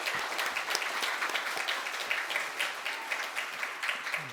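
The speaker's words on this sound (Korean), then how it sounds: "우리 격려의 박수 드리도록 하겠습니다." A church congregation applauding in encouragement during a Sunday service, a moderate room-filling patter of many hands clapping steadily, with a few sharper claps standing out.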